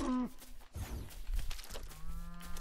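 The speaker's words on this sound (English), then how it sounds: "Cow really doesn't seem to give a fuck that I'm just sitting here punching it." A cow in the Fortnite video game lets out a drawn-out moo while being punched, followed by a soft thud and a second lower moo, mixed with brief game sounds.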